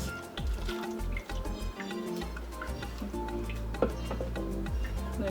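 Water splashes into a cooking pot holding tomato sauce to rinse it out while a Ghanaian chicken light soup is prepared, a steady close liquid pour over kitchen clatter.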